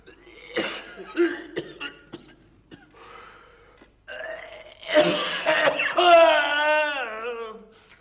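Several people cough in short, sharp bursts, with gasps and throat sounds mixed in. Voices are heard in between the coughs.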